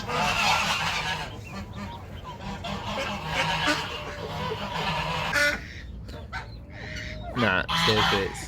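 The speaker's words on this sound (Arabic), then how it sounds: "هذا الدجاجة ليش عصبي اليوم؟" Agitated chicken clucking loudly in repeated bursts alongside honking fowl, a busy barnyard chorus with a rooster nearby, briefly broken by short gaps before the squawking surges again.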